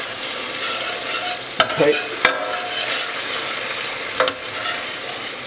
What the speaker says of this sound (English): Just give that a mix round